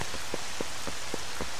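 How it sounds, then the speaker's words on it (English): Steady rain falls in the game Zelda: Twilight Princess HD, a constant hiss with a soft, regular patter of drops on top, heard alone without talk. "No, we can't. It's raining. That's really annoying."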